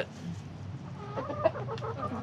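A few chickens clucking softly nearby, short low calls over a quiet outdoor background.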